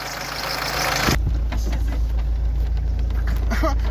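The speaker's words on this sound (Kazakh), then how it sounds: "Дизельдің дауысы керек па, міне. Қалай жұмыс ет дизель." A Volkswagen Vento diesel engine idles with a steady low clattering rumble close by, following a brief burst of broadband noise at the start, with faint knocks over the idle.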